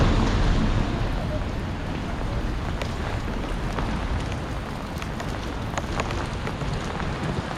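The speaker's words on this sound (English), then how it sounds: "it's really wet and raining" Rain falls steadily outdoors on a wet street, a continuous hiss with scattered drop taps and some wind noise on the microphone.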